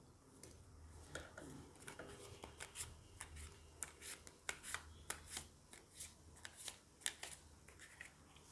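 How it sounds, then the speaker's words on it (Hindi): Tarot cards being shuffled by hand, a run of crisp riffling flicks and slaps at an irregular, quickening rhythm, quiet and close with no voice over it. "तो सबसे पहले इसके लिए हम कार्ड शफल कर लेते हैं।"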